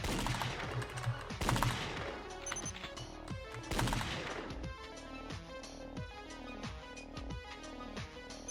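Rapid bursts of gunfire ring out in a shooting minigame from the video game Danganronpa Another, loud and dense at first, then settling into a steady rhythm of regular shots over game music.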